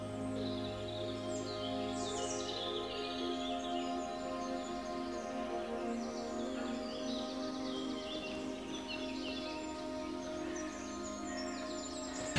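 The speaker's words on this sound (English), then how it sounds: "if you actually listen for the calls of the birds, you can carefully approach them" Several birds chirp and call intermittently through a woodland, faint and distant, over a steady low background hum.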